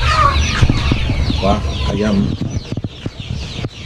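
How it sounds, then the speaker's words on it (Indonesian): Arab chickens on a farm cluck in short, irregular bursts at close range, mixed with scattered knocks and handling noise, while someone talks over them. "Ini adalah ayam Arab."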